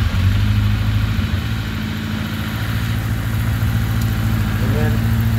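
A 1981 Honda CB900C motorcycle engine idles steadily with the choke pulled out, holding a fast, even low rumble close to the microphone throughout.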